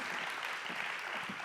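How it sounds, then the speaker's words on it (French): Sustained applause from an audience at a workplace health and safety conference, a dense steady wash of many hands clapping throughout, fairly loud and even with no gaps. "qu'on applaudit très fort"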